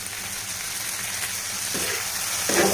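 Maggi noodles stirred in a pan over a gas stove give a steady, close sizzle of frying, with a couple of brief scraping touches near the end.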